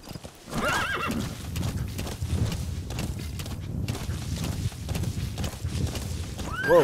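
Horse hooves clip-clop steadily in the stealth action game Metal Gear Solid 5, with a neigh or whinny rising over the loud, continuous trotting from start to finish.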